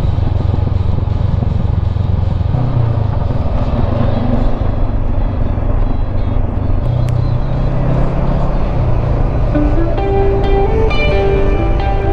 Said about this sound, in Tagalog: Tumatalong kasi motor eh.